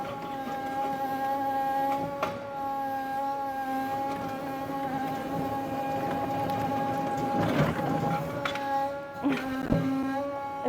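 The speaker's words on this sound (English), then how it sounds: "It's quite fast, isn't it, for an electric machine?" A nearly 3-ton electric zero-emission mini excavator works nearby with a steady whining hydraulic and motor hum, pitch shifting as it moves, punctuated by a few clanks and scrapes.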